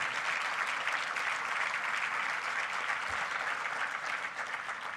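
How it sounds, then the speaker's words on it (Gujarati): A gathering in Canada gives a newspaper editor a warm welcome with loud, continuous applause, a thick, steady roar of many hands clapping without a break, with no voices standing out. "આપણે એમને જોરદાર તાળીઓથી વધાવવા છે."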